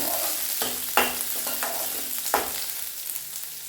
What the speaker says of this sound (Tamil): சின்ன வெங்காயம் நிறையா சேர்த்துக்கிட்டு பூண்டு ரெண்டு வலி சேர்த்துக்கலாங்க இஞ்சி கொஞ்சமாக சேர்த்துக்கலாம் அதுக்கப்புறமா வதக்கி விட்டுட்டு